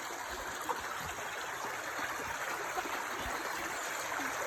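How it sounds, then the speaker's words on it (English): A clear stream running over small rocks that form a mini waterfall, a steady close hiss and babble of flowing water with no talk. "Some of those rocks make a mini waterfall."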